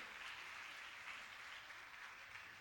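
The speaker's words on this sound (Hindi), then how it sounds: "एक बार तालियां तो बजाइए" Faint, steady applause from an audience at a religious discourse session, a continuous patter of many hands clapping at a distance.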